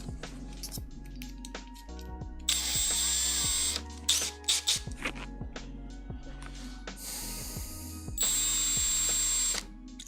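A cordless power drill runs in several loud whirring bursts while parts are fastened on a Voron V0.2 3D printer build, mixed with ratcheting clicks and sharp tool knocks at close range.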